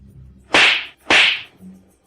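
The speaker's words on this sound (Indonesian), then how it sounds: "Ayo, tampar dia 2 kali lagi." Two sharp, loud slaps to the face land in quick succession about half a second apart, each a crisp cracking smack with a brief decaying tail, alone without speech.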